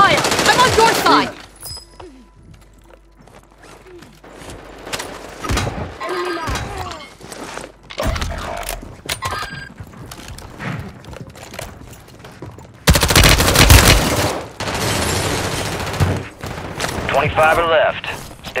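Call of Duty Modern Warfare 3 firefight on Ashika Island: loud bursts of automatic gunfire and single shots mixed with explosions and thuds, while voices shout in between.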